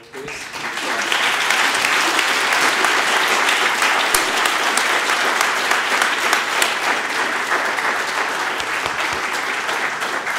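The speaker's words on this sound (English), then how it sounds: "please join me in a round of applause and thanking both Chris and Michelle" A lecture audience gives a sustained round of applause for two speakers, the clapping swelling quickly and holding at a steady, moderately loud level from a roomful of listeners.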